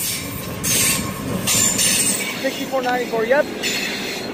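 An EMD diesel locomotive hauls a freight train past at close range, with a loud steady rumble of rolling cars, clacking wheels and a brief high wheel squeal. Someone speaks briefly over the noise.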